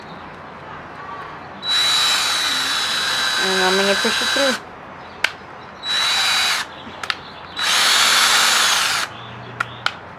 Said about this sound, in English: So I'm just gonna take my drill